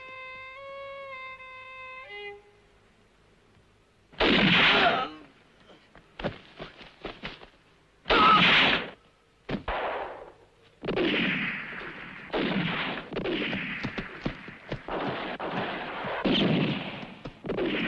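Lit fuse hissing briefly, then a series of loud blasts and gunfire-like bangs in a dramatized scene, sharp bursts separated by short gaps, close and alone.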